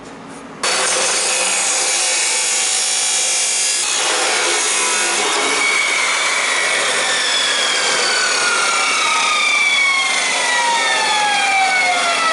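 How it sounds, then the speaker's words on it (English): A metal piece for a turbo mount being cut in a garage, a continuous harsh grinding whine that starts abruptly and runs steadily at close range with shifting pitch as the cut progresses. "this is the piece that David just cut"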